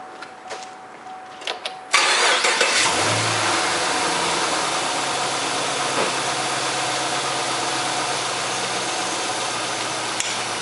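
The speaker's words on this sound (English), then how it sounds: "So, start her up." A Chevrolet Camaro engine cranks and fires up after a cold air intake install, settling into a loud, steady idle with a brief rev, close up and alone after a quiet opening.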